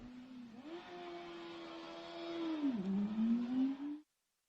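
A racing motorcycle engine held at steady mid revs before a race start drones with a rising and dipping pitch, growing a little louder toward the end, then cuts off abruptly.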